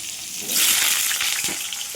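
Potatoes and cauliflower hit hot oil tempered with cumin in a wok, causing a sudden loud burst of frying hiss that settles into a steady sizzle with a couple of stirring knocks, close up.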